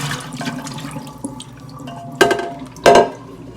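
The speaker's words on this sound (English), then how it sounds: "and wash this tray and come right back" A baking tray rinsed under running water in a kitchen sink, a steady splashing stream with two loud clattering bursts of metal and water toward the end.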